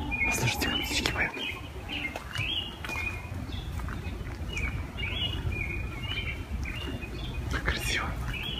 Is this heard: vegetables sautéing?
no